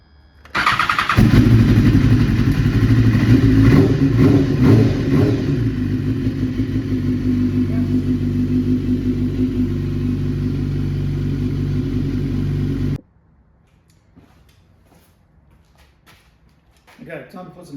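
A motorcycle engine cranks and catches after being hooked to a jump pack, then runs with a loud, steady idle for about twelve seconds before shutting off abruptly, leaving near silence and a faint voice at the end.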